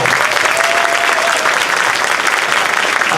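A crowd at a congressional district convention applauds in a steady, dense wash of clapping, loud and sustained throughout.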